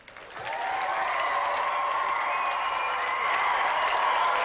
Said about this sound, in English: Round of applause for Kristian.